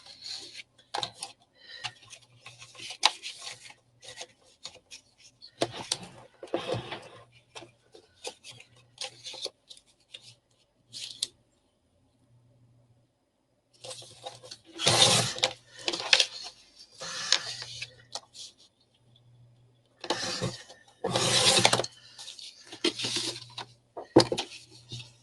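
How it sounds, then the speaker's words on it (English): Scissors snipping through paper while trimming a piece for a handmade minibook, close and quiet, with bursts of crisp cutting separated by pauses and a faint low hum underneath. "I'll cut it down a little bit."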